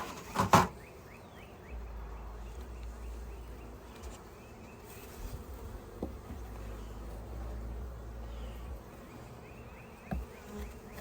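Honeybees buzz around open beehives during a hive inspection, a steady close drone with a few sharp knocks at the start and occasional bumps.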